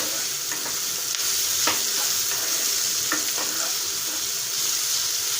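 Ridge gourd pieces and moong dal stirred in a hot pan, a loud, close steady sizzle broken by several soft spatula scrapes and taps, with no talk.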